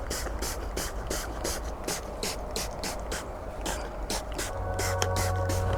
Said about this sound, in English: And then we'll use the bug spray just to be safe.